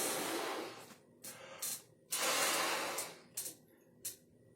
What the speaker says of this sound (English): let's go ahead and take this balloon and I'll blow it up just like I did the first one